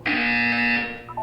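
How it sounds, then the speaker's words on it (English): A buzzer from the video game Portal 2 sounds one loud, steady electronic tone lasting about a second, then cuts off with a brief short blip. "You will hear a buzzer."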